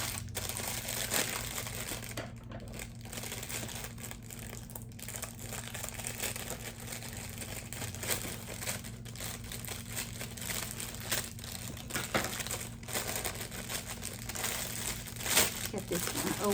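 Crinkly plastic packaging from a Temu or Shein order rustles and crackles steadily up close as it is pulled open to reach a small squeegee scrubber inside, a continuous close-up crinkling that fills the whole stretch.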